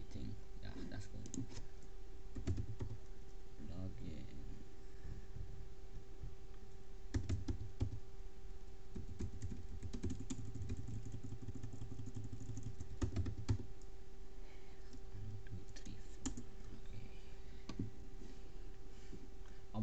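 Typing a password on a computer keyboard: a steady run of close, light key clicks and taps, irregular in rhythm, over a constant low background hum.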